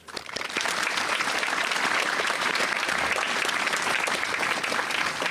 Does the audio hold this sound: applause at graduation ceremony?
yes